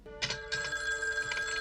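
A telephone bell rings in two bursts close by, bright metallic trills that go on without being answered.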